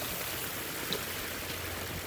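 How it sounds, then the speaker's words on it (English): Steady rushing splash of a small garden waterfall in a permaculture garden, a continuous close wash of falling water with no voices. "Waterfall."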